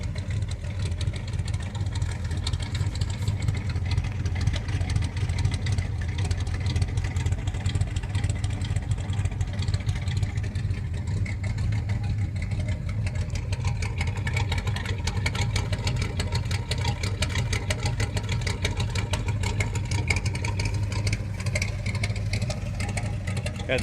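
A 1979 Ford F150 pickup with a 400M V8 idles steadily, a low, even rumble with a slight uneven lope, close and continuous without any talk.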